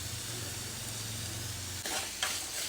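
Cut potatoes stirred into onion paste frying in a pan, a steady loud sizzle with a low rumbling hum, then scraping spoon strokes against the pan near the end.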